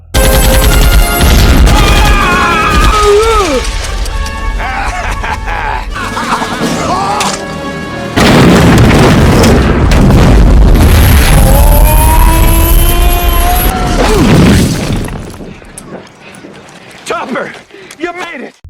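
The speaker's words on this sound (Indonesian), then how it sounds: "ledakan bom yang begitu besar" Loud, chaotic soundtrack of a bomb explosion in the 1993 film Hot Shots! Part Deux, with deep booming blasts and rumbling, rising tonal effects and dramatic noise, then fading to quieter scattered sounds.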